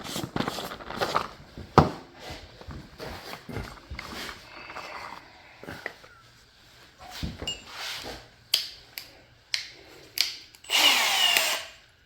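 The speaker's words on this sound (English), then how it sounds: "Now I was smart enough to bring the drill" Short bursts of a power drill whirring on and off during restoration work at a 1947 mill, several brief runs with pauses and clunks between, ending in a louder sustained spin.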